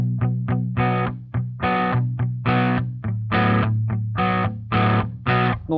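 Electric guitar played through an EarthQuaker Devices Zoar distortion pedal, loud saturated chords struck in a rhythmic chugging pattern of short bursts and sustained hits, close and dry.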